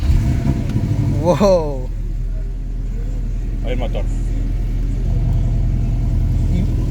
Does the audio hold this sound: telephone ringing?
no